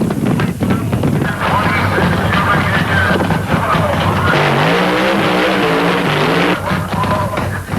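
A drag car from the Hot Rod Shop, driven by Danny Wenger, streaks down the quarter mile at the 1972 UDRA Spring Nationals. Its engine roars loud and steady throughout, rising in pitch partway through, with heavy wind rumble underneath.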